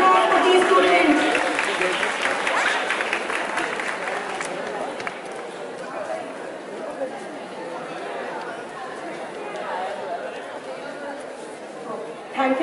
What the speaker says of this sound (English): Give a big round of applause for these students.